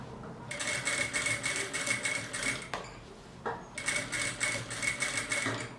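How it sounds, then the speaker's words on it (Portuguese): A sewing machine stitches around the edge of fabric for a baby's toiletry bag with a portable changing pad, running in fast rhythmic bursts of rapid close clatter, pausing briefly midway, then resuming, with no talking. "Ó, vai costurar toda a volta"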